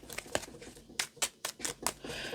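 A deck of tarot cards being shuffled by hand gives quiet, crisp riffling snaps and short papery bursts in an uneven rhythm, close and fairly faint, with no talk.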